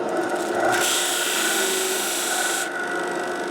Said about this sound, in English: I've cut that radius, taking it off the underside of the original nut.